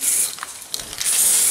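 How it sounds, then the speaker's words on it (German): Matt black spray paint hisses from an aerosol can while coating the welded feet of a homemade stand for a Weber kettle grill, heard as close, loud bursts at the start and end with a softer stretch between. "die werde ich jetzt mit der Sprühdose schwarz-matt einfach komplett einsprühen"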